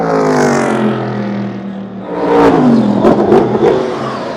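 Super GT Toyota Supra race car at Okayama roaring past with a rising engine note and gear changes, loud and close, fading after the pass.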